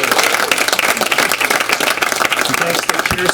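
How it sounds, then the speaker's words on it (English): Audience applause at the close of a Good Morning Truckee community morning program in May 2023, a dense, steady wash of clapping filling the whole stretch with a voice faintly underneath. "Give Allison a big round of applause for all the work she's done."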